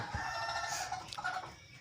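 Caged desi laying hens and their parent birds cluck and call steadily, with a rooster's crow rising through the middle, all fairly close and continuous with no talk.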